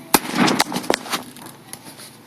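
Sharp gunshots crack out during a Wild West town shoot-out show, several loud bangs spaced irregularly across a couple of seconds with an outdoor echo, fading after the last report.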